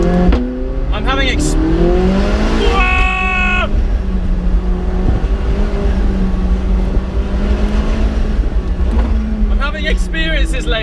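A McLaren 675LT engine drones and rises in pitch through a run of acceleration, loud and close from inside the car, with someone talking over it.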